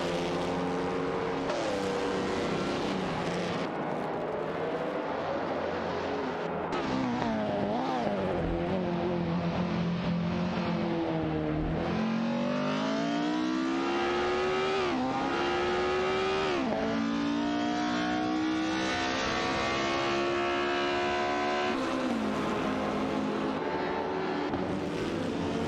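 Video game race cars, including an Alfa Romeo 159 and a Ferrari 375, rev and drone steadily, their engine pitches climbing and falling through gear changes as several cars compete closely, loud and sustained with no voices.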